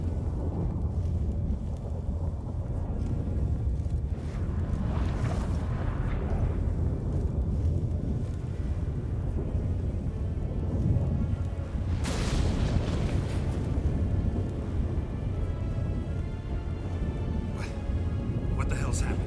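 A game storm in Witcher 3 rumbles with booming thunder and a steady roar, heavy crashes around the middle, with voices speaking over the din.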